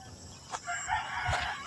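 A rooster crows in rural countryside, a clear, moderately close call stretching across most of the moment, with a brief sharper cry just before it and faint bird sounds in the background.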